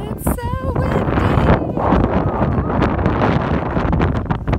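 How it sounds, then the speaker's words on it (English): Strong wind buffets the microphone atop Clingmans Dome on a clear day, a loud continuous roar with gusting rustle throughout; a brief voice whoops near the start. "It's so windy!"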